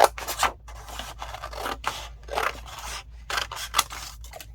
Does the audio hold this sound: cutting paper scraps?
yes